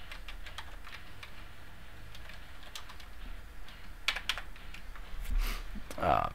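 Computer keyboard keys clicking as a server address is typed into a web browser, a sparse run of light taps that grows busier toward the end, heard close over a faint background hum.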